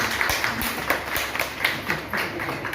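Scattered hand claps from a small gathering at a monthly ration distribution event held at a blood bank in Guru Hargobind Nagar, irregular and mid-distance over a murmur of background voices.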